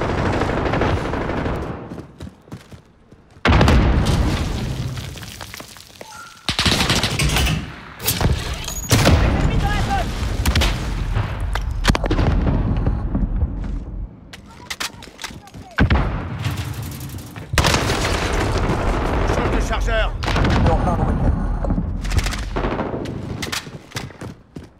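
Gunfire and explosions in Modern Warfare (2019), with repeated heavy bursts of shots and booming blasts filling most of the stretch, loud and close, and speech at times mixed in among the shooting.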